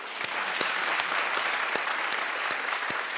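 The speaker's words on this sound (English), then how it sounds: "Clap if you think likely." Talk-show studio audience applauding in a steady, even wash of clapping, with a few sharper individual claps standing out.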